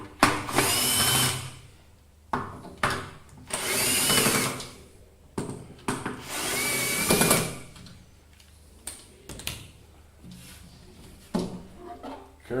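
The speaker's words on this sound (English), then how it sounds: "this is done by unscrewing these 4 screws that I have over here" A small power screwdriver or drill backs out four screws from an inverter cover, several short whirring bursts separated by pauses and handling noises, close and clear.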